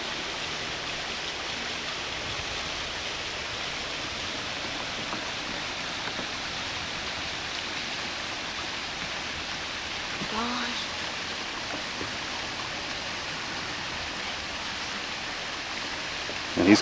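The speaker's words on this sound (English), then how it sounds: "Water of Fall Creek as it drops right over the edge." Fall Creek pours over the edge of a waterfall at Chimney Rock Park, a steady, soft, hissing rush of water heard from a distance, unbroken throughout.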